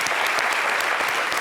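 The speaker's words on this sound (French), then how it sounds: "Ça s'applaudit." Dense applause from a TV talk show studio audience, steady and continuous throughout with no talk over it.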